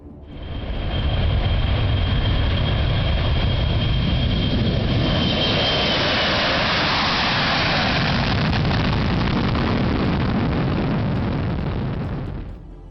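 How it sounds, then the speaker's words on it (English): An airplane engine roars during a takeoff run on a runway, a loud, steady, broadband rumble with a faint high whine, holding strong for over ten seconds before tapering off at the end. "the plane finally gained altitude and sped away"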